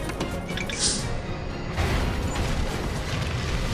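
An airplane's structure breaks apart in the air at about 10,000 feet: a turbulent rushing roar broken by crashing, rending bursts, all loud and continuous without talk.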